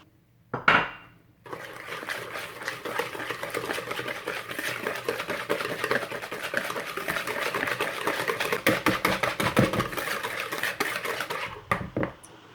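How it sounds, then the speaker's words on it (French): An egg whisked into gluten-free rice flour chocolate chip cookie batter, opening with a clink, then a continuous rapid rattling of a whisk against the bowl, ending in a couple of taps. "Je mets l'œuf et je bats encore."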